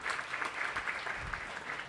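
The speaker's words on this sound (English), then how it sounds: "Give Brenda a big round of applause." A crowd at an apartment grand opening press conference gives a warm round of applause, steady dense clapping at moderate distance throughout.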